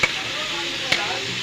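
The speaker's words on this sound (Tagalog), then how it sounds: "Prito ko po siya sa mantika para malambot na malutong-lutong." Tofu pieces sizzle in hot cooking oil in a pan, a steady close hiss with two brief louder crackles or stirring clinks, and no talking.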